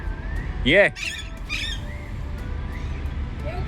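A pet parrot on a terrace gives a sharp, harsh squawk up close, followed by a couple of shorter calls over quiet background noise.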